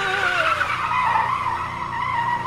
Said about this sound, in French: La voiture glisse de côté